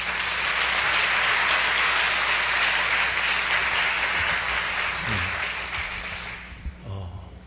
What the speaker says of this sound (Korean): 목사님 나오셔서 말씀 전해주실 때 큰 은혜 받으시고 우리 박수로 모시겠습니다